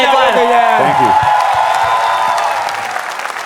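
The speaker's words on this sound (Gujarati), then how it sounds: "જોરદાર તાળીઓ થઈ જાય એકવાર" Studio audience applause on a comedy talk show, a dense wash of clapping with a few whoops that fades a little toward the end, with speech mixed in over the opening.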